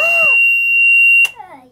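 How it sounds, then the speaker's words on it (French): A very powerful sleep timer alarm aboard a solo sailing boat blares a loud, steady high-pitched electronic tone at close range, cutting off abruptly, with a voice speaking over and after it. "On a une alarme qui est très puissante pour être sûr qu'on se réveille quoi."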